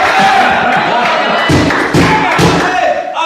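A church congregation acclaims the Lord together, a loud, dense crowd roar of cheering voices with thumping claps or stamps swelling in bursts, close and continuous throughout.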